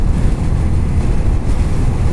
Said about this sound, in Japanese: 風は確かに正面からめっちゃ受ける